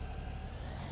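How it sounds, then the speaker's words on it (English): Road traffic truck with air brakes in Farming Simulator 17 on the Coldborough Park Farm map, a steady low rumble ending in a brief hiss of air release, heard alone. "Very scary, the traffic on this map."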